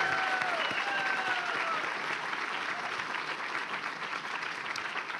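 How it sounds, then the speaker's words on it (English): Audience at an alumni awards event applauding Kim Christensen, a sustained, dense round of clapping from a large crowd that gradually fades slightly. "Will you join me in giving her a round of applause?"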